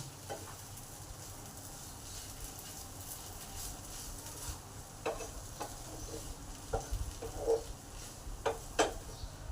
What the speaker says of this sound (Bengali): এবার ভালো করে এই সসগুলোকে চাউমিনের সঙ্গে মিশিয়ে নেবো